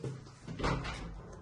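An apartment's front door is opened with a muffled creak and rumble that swells in the middle and fades, heard close in a quiet hallway.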